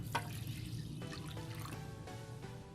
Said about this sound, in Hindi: मैंने चावलों के बीच में 1 कप पानी जो है ऐड कर लेना है।